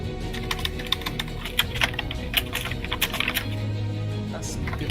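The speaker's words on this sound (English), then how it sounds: "I'm going back and quickly typing stuff up" Fingers type quickly on a computer keyboard to take notes during a Dungeons & Dragons 5e tabletop session. Irregular bursts of close clicking keystrokes run over a low background hum, with occasional faint voices.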